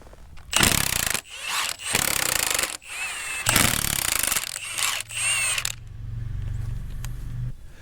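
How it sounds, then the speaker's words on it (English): Cover bolts come out around the perimeter of a Caterpillar RD-6 final drive, heard as several loud bursts of power-tool rattle with short gaps between them, then a lower steady hum at the end. "now we just take out all of the cover bolts that go around the perimeter."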